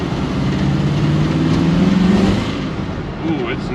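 A twin-turbo 1956 Chevrolet two-door engine pulls hard in third gear, a loud, steady droning rumble that rises through the middle of the run and then eases off, with engine tone filling the whole stretch.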